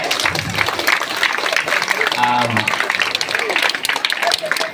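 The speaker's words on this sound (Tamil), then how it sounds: "இந்த நீதிபதிக்கு நீங்க எல்லாரும் ஒரு அருமையான ஒரு கைத்தட்டல் கொடுங்க" Applause from an audience at a school annual day pattimandram debate, given for the debate judge; dense clapping mixed with crowd noise and some talk throughout.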